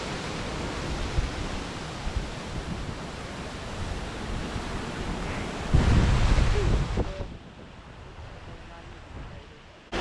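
Strong cyclone wind roars outdoors near a village, a dense steady rush of broadband noise that surges in a louder gust midway before easing off.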